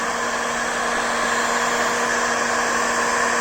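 Heat gun blowing on a BD-4B aircraft spar to remove Proseal and epoxy, a steady loud whirring blower with a continuous airy rush and tonal motor hum, close up and unbroken.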